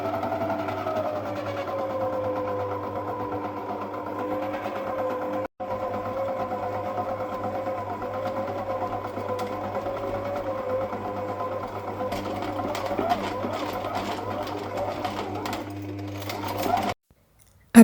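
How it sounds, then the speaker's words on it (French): A food processor runs at medium speed mixing shortcrust pastry dough, giving a steady whirring motor drone with a constant pitch for many seconds, then stops abruptly near the end. "Mettez à présent votre robot en marche à vitesse moyenne jusqu'à obtenir une texture homogène."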